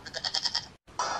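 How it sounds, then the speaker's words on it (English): Goat bleats from a children's reading app, a run of about six short nasal calls in quick succession, followed by a brief gap and a brighter electronic tone or chime, fairly quiet and with no talking over it. "G. G. G. G. Goat."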